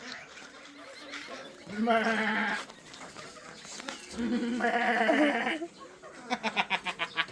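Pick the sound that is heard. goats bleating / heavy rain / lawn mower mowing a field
goats bleating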